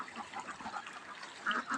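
Ducks on a small family farm, bathing in a tank, give a few quacks and honking calls at close range, a louder pair of calls near the end.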